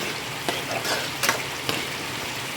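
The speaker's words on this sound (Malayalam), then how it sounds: "എണ്ണ ചൂടായി വന്നപ്പോൾ അതിലേക്ക് കറിവേപ്പില പിന്നെ ചെറിയ ഉള്ളിയാണ് ഞാൻ ചേർക്കുന്നത്" Shallots and curry leaves fry in hot oil with a steady close sizzle, broken by a few scraping stirs.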